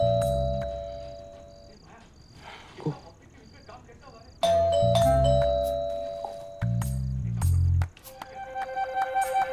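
A doorbell chimes indoors several times in a melodic ding-dong pattern, loud and clear, with short pauses between rings and faint room noise but no clear talking.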